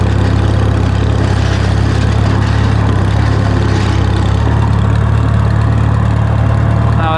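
1954 Farmall 300 tractor, about 40 horsepower, engine working under load with a steady, heavy low-pitched throb that shifts slightly partway through, close and continuous with no talking.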